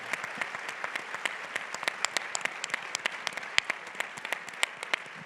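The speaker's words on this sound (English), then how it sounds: "let's give her a round of applause in absentia" Audience at a women-in-leadership event gives a round of applause for the mayor of Saint Paul, crisp individual claps forming a steady, moderately quiet patter throughout.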